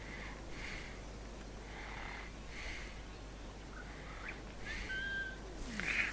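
In the Assassin's Creed Rogue video game, a character gives a short whistle to lure a guard, heard faintly over a low, busy ambient bed of game background noise.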